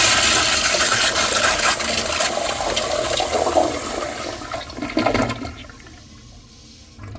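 A Kohler Kingston wall-mounted toilet with Waterguard flushes in a loud, close rush of swirling water that gradually fades into a quieter gurgle and refill hiss.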